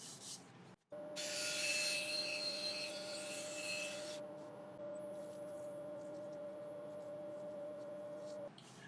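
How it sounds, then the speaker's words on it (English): A wooden bowl spun on a lathe while being sanded gives a steady rubbing hiss over the lathe's constant motor hum, with a brief gap near the start and a harsher, louder stretch early on before settling. "I am going to get the piece sanded"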